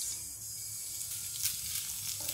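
Cumin seeds sizzling in hot ghee for dal, a steady, soft hiss of frying that holds evenly throughout, close and alone.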